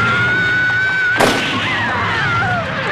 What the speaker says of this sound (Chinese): 阿红见到唐斌开枪